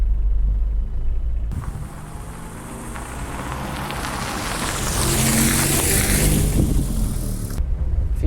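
A 1968 Opel Rekord C 1700 with a manual transmission drives along, a steady engine rumble and road noise swelling with rising wind hiss as it gathers speed, then cutting off abruptly.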